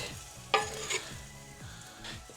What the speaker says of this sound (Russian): Нам надо лук слегка пережарить.